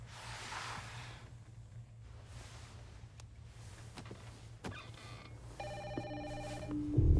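A telephone on a private office line rings in repeated electronic trills, growing clearer toward the end over a low steady hum and a few clicks and footsteps.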